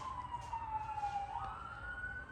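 A wailing emergency siren sweeps steadily in pitch over a low traffic rumble, sounding moderately distant as it passes.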